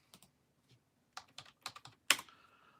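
Fingers type a short burst on a computer keyboard, a handful of sharp close key clicks in quick uneven rhythm, ending with a louder keystroke, over near silence.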